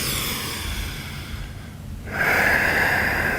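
Deep breath taken mid-stretch in a post-workout BJJ cooldown: a steady, close airy inhale that swells into a louder, rougher exhale, no talking.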